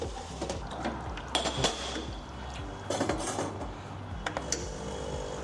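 Hot water running from a Barista One espresso machine into a cup for an Americano, a steady liquid flow with a machine hum and several sharp clinks and clatters of cup and parts.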